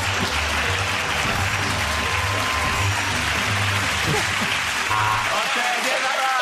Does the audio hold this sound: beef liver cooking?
no